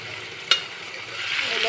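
Chicken pieces and potatoes cooking in spices under a lid in a covered pan for a desi chicken bhuna, giving a steady soft sizzle with one brief clatter near the start and the frying growing slightly brighter toward the end.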